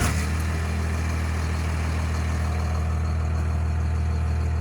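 Chevy 2500HD pickup fitted with a 12-valve Cummins diesel engine idling, a loud, steady, low rumbling drone heard close up, with no one talking.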